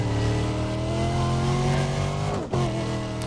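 A race car in Need for Speed: Undercover pulls away, its engine droning loud and close as the revs climb steadily. A brief gear-shift dip comes near the end before the engine picks up again.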